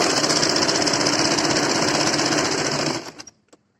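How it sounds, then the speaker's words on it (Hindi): A sewing machine stitches the shoulder seams of a kurti, a fast, steady mechanical chatter for about three seconds that slows and stops with a couple of final clicks. "अब हम अपनी कुर्ती के जो कंधे हैं इन पर सिलाई लगा देंगे।"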